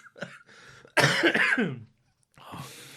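A few harsh, close coughs: a short one, then a long raspy coughing fit, then a quieter cough after a pause.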